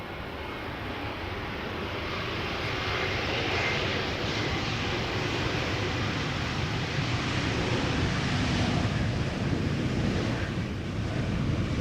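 A fixed-wing airliner passes over Amsterdam Schiphol Airport, its broad engine roar steady and fairly loud for the whole stretch, mixed with gusty wind buffeting the microphone outdoors.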